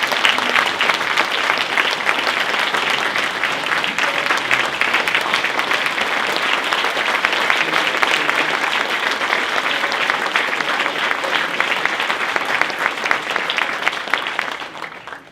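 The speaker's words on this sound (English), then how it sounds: "So please, a round of applause for all of you." Sustained applause from the crowd at a Dale City Civic Association 50th anniversary awards event, dense, even clapping holding for about fifteen seconds before tapering off.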